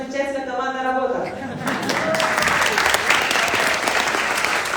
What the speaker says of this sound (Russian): they keep smiling and clapping